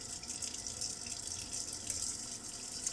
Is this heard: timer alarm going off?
no